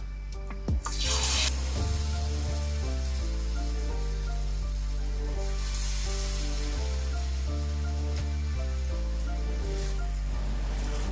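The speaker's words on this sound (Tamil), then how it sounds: "எண்ணெய் நல்லா காஞ்சிருச்சுங்க. இப்போ பக்கோடா போட்டுக்கலாம்." Potato pakoda pieces drop into hot oil and set off a soft, hissing sizzle that swells and fades at moderate volume, mostly masked by steady background music.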